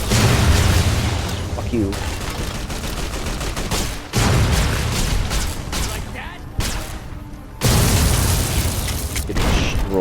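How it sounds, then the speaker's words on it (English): Heavy gunfire and explosions rage during the Battle of Hoover Dam in Fallout: New Vegas, loud continuous shots with booms and brief breaks, while someone talks over the fighting. "I'm getting shot from so many different angles right now."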